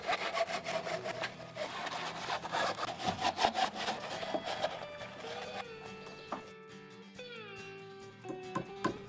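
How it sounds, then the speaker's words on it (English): A handsaw cuts off the tops of wooden deck posts on a pool deck frame, with steady, close, rhythmic back-and-forth strokes that ease off toward the end, where a few light knocks and rattles follow. "Then I use a handsaw to finish cutting them off."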